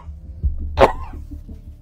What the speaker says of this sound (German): Mein Leute, das Husten macht mich wirklich langsam fertig